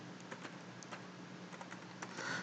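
Soft, quick keystrokes on a computer keyboard come in irregular bursts as text is typed line by line, faint and close with a low steady hum underneath.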